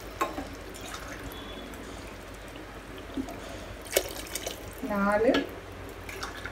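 Water poured from a tumbler into a cooking pot for mushroom biryani makes a brief, soft splash near the end, following a few faint drips, while a voice counts aloud.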